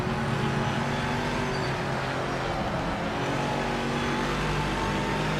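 Race car engine in the Project Motor Racing video game, a steady loud drone with continuous revving throughout, no talk over it.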